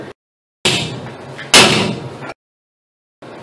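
Two heavy strikes from a bigger hammer on the pinion of a Ram 1500 9.25-inch rear differential, each with a sharp attack and a short ringing decay, separated by quiet gaps.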